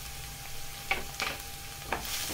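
Spoon stirring coriander powder, homemade garam masala and turmeric into dahi bhindi, an okra and curd gravy, in a pan, with three short scraping strokes over a faint steady sizzle.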